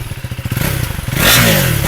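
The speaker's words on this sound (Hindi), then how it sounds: "अब मैं आपको इसका एग्जॉस्ट नोट सुनाता हूँ और कैसा इसका साउंड रहने वाला है।" A KTM 390 Adventure single-cylinder motorcycle idles in neutral with a steady, close thumping exhaust pulse, then a blip of the throttle raises it into a louder, rougher rev.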